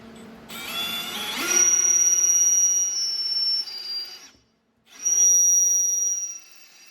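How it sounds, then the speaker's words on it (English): A power drill with an 8mm bit bores through metal, giving a loud high whine that rises and holds in two runs split by a brief silence. "So we'll go through with the 8mm drill bit to start with."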